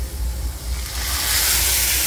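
Poppy seed paste with a splash of water hisses and sizzles steadily in a hot pan, a loud, continuous frying hiss that swells slightly toward the end with no voices.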